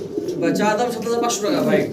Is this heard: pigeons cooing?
yes